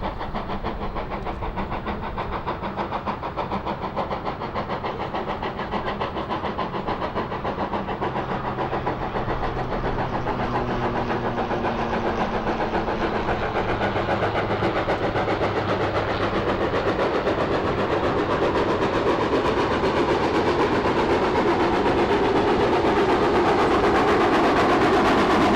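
A loud, steady rumble of a Great Western Castle or Manor class 4-6-0 steam locomotive working hard as it climbs away from a harbour by the River Dart estuary, with a rhythmic chugging and rolling clatter that builds slightly over time.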